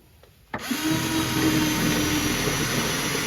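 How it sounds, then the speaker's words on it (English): After a quiet moment a power drill spins up abruptly, drilling a hole to mount a fuel filter, and runs with a loud, steady whine and grinding buzz, close by and without pause. "I'm going to drill another hole here so we can get one closer"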